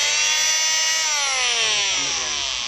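A power sander works on wood during house renovation, a steady high-pitched whirring drone with a pitch that sweeps and drifts, held loud and close throughout with no talking.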